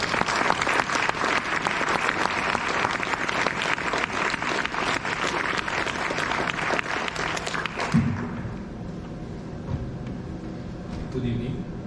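An audience at a talk on Israel-Palestine politics applauds to welcome a speaker, dense loud clapping for about eight seconds that abruptly thins into room noise with faint handling sounds.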